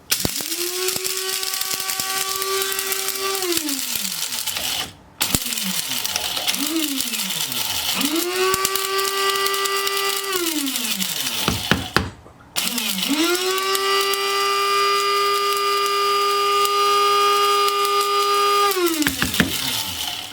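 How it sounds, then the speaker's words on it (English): An electric grinder pulverises peppercorns and turmeric into powder. It runs in three bursts, each with a whining motor that spins up, holds a steady high hum with a rattling grind and then winds down, heard up close. "This stuff grinds up pretty easily."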